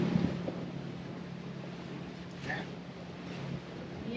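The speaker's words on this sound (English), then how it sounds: "There's that wind I was looking for." Wind gusts buffet across open water during a dinghy ride, a steady broadband rush with a faint boat hum beneath and a brief voice partway through.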